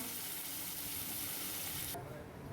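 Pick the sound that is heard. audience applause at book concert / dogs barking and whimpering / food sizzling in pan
food sizzling in pan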